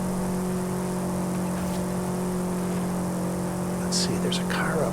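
A video game car engine hums steadily on a road, a low, even drone with a faint whir, joined near the end by brief sharper noises; soft, quiet voices occasionally sit beneath it.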